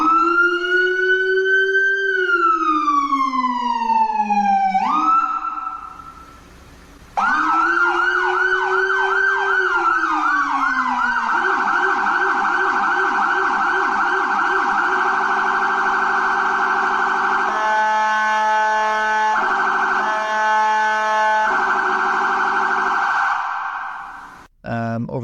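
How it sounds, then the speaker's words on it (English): Abrams Tornado low-frequency siren fitted on a Porsche Cayenne response vehicle cycles through loud wail, yelp and fast alternating tones, with a brief pause between patterns, close and continuous with no talking. "So we actually went with a Abrams Tornado. It's a great solution for a car that you have very little room. They make smaller, low-frequency sirens."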